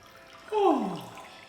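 Water switched on for bath bubbles in a Tokyo bathtub comes on abruptly as a loud, close rushing gush that holds steady and then gradually eases, with no talk over it.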